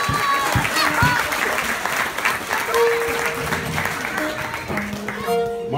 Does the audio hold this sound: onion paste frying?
no